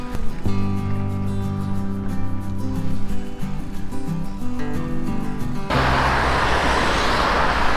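Road traffic in Istanbul heard from an electric bike on a fast-moving main road: steady vehicle and engine drone with tonal hum, shifting into broad wind and road rush partway through.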